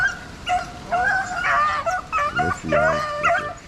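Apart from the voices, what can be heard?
rabbit hunting dogs barking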